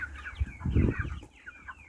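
Chicks of a large poultry breed cluck and peep in a brief, busy cluster, with several overlapping short calls and a soft low bump in the middle, near and moderately loud, without speech.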